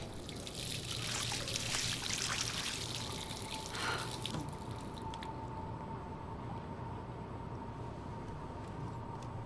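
Water runs from a tap in the game Life Is Strange, a soft continuous splashing trickle that is fuller for the first few seconds, then settles into a quieter steady flow with no speech.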